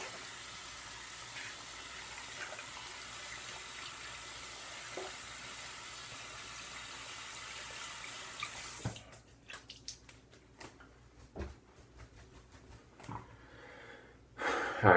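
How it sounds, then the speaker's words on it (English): Running water rinses a shaving brush and shaving tools. It gives a steady hiss for several seconds, then turns into irregular splashes and clicks as the items are handled under the stream. "Just give our tools a little rinse here."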